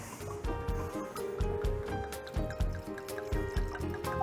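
A red drink is poured into a glass at a party, a steady liquid trickle running for a few seconds with faint bubbling and small clinks.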